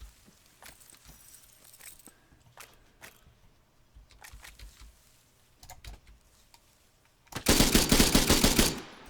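Machine gun fire in ARMA 3: scattered sharp distant shots and clicks over a quiet stretch, then a loud close burst of rapid automatic fire erupts near the end.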